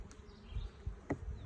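Carniolan honey bees buzzing around an open hive during an inspection, a faint low drone with a few brief louder passes near the microphone.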